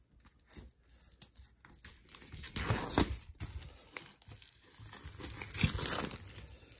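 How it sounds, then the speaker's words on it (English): Plastic wrap crinkles and tears as board game components are unwrapped, close and soft, in scattered bursts of crackling with quiet gaps between them. "Ah, more plastic wrap."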